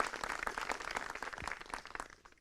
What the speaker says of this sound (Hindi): स्वागत, जोरदार से तालियों से स्वागत कीजिए।